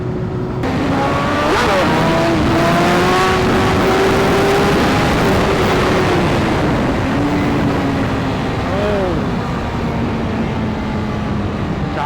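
A BMW S1000RR sport motorcycle accelerating hard on a highway, a loud continuous engine whine rising through the gears under heavy wind rush, with no talking.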